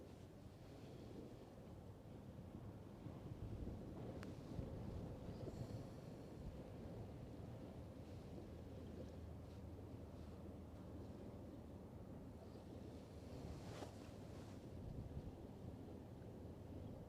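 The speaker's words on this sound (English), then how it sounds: "the wind is even picking up now" Steady wind rushes across the microphone at the Westerschelde waterfront, a faint broad roar mixed with distant water and a low rumble of passing shipping, continuous without any speech.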